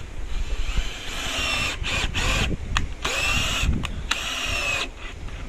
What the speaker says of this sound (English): Sometimes it helps if you go back and forth with the drill.